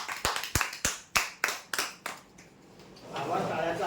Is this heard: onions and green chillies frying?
no